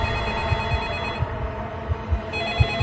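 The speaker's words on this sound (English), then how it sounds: "the phone stopped ringing" A telephone rings continuously in a quiet room at night, a bright trilling bell tone repeating steadily with faint rhythmic thumps beneath it.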